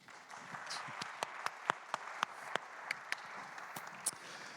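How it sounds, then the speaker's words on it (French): An audience at a round-table discussion on tropical to boreal forests applauds as a panelist arrives, a sustained patter of clapping with several sharp, loud individual claps standing out, moderately close. "sous vos applaudissements"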